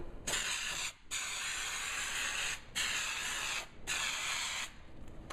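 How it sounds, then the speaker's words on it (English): Three long hissing bursts from a spray can of glue onto a trunk liner piece, each lasting a second or two with brief pauses between, close and steady. "we'll spray the rough part of this piece with the glue."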